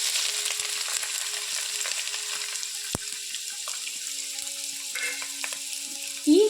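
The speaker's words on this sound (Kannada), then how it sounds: "ಈಗ ಇದನ್ನು ಎಣ್ಣೆಯಲ್ಲಿ ಚೆನ್ನಾಗಿ ಫ್ರೈ ಮಾಡ್ಕೋಬೇಕು." Squeezed bitter gourd fries in a little oil, crackling in a steady, close hiss, with a single knock midway and a utensil clatter at the end.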